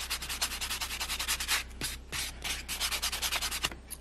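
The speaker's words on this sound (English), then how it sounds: "Now we're taking our orange buffer and just buffing out the entire surface." An orange buffer rubbed over a gel-polished nail surface, making close, quick rhythmic scratchy strokes in rapid bursts with a couple of brief pauses, no voices.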